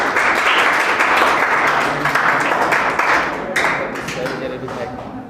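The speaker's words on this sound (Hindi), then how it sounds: "ए भैया इस बच्चे के लिए जोरदार ताली बजाई जाए।" An audience in a classroom claps for a student, a loud, dense burst of applause that fades slightly toward the end, with voices mixed in.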